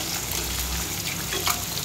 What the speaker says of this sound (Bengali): এইদিকে আমার মাছ ভাজা হচ্ছে, চলছে